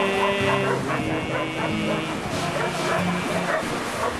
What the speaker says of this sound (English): Good boy, happy dog.